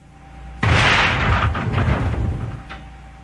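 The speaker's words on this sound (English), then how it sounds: "This tank has been deliberately weakened to demonstrate how quickly and without warning a tank can fail." A deliberately weakened liquefied gas tank fails in a BLEVE, bursting with a sudden loud, deep boom after a short quiet lead-in, then a long roaring rumble that slowly decays, with a second sharp crack near the end.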